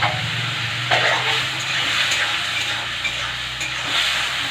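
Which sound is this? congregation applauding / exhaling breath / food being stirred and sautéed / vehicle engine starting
food being stirred and sautéed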